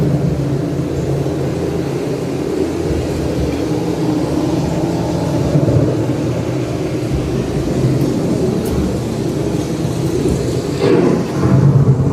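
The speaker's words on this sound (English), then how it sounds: "The approaching storm may seem violent and destructive to us, but to nature, it's a new beginning in the cycle of life." Thunderstorm effect on EPCOT's Living with the Land boat ride, a continuous loud rolling rumble like distant thunder and rain, steady throughout with a sharper crack near the end.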